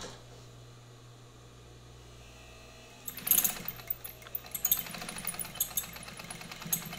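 A Brother DB2-B755-150 industrial sewing machine with a fabric needle sews over a leather patch. A quiet hum runs for about three seconds, then loud rapid rhythmic stitching bursts in close up and carries on, uneven as it slows.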